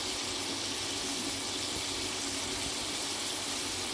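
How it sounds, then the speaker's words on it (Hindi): Water poured into a pan of chicken jalfrezi after seven to eight minutes of cooking, a steady, dense rush of liquid that runs unbroken and fairly loud throughout, with no voices. "इसमें थोड़ा सा पानी डाल के अब हम इसमें डालेंगे मसाले।"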